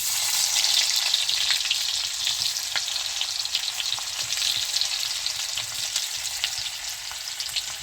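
Onion dropped into hot oil with crackling cumin seeds for a village-style green bean curry, giving a loud, continuous close sizzle with steady fizzing and small pops throughout.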